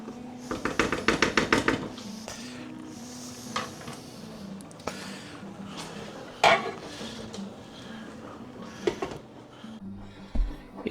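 Creamy mushroom sauce with vegetables simmering in a covered pot, a soft steady bubbling hiss under clattering lid and utensil knocks, with a quick burst of metallic rattles near the start and occasional clinks.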